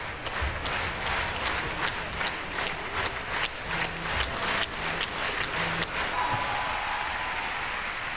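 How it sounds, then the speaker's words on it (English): Warm audience applause closing a ballet performance, a dense sustained wash of many hands clapping with a rhythmic pulse, fairly loud and continuous throughout. "Ishii can't help smiling at the warm applause of the audience"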